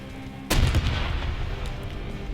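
A single heavy tank cannon shot booms out in War Thunder, a sharp blast followed by a rolling low rumble that fades over the next two seconds.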